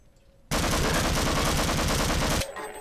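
A shotgun fires in the video game Half-Life, one loud, dense burst that starts abruptly and holds for about two seconds before cutting off, alone without talk.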